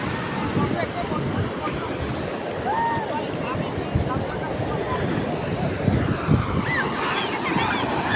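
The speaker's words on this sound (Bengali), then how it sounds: "আবার বড় একটা ঢেউ আসছে" A big sea wave rolls in and breaks on a beach, making a broad, rushing surf roar mixed with wind buffeting the microphone, while voices are heard faintly in the background.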